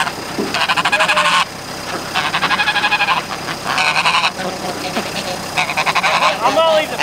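Geese on a farm honking at feeding time, repeated loud bursts of raspy honks from several birds nearby, alternating with quieter stretches where a person talks.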